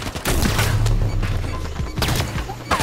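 Loud, dense Halo gunfire fills the whole stretch with booming shots and crashing impacts, including sharp single reports that could be sniper rifle fire, all layered over constant game noise.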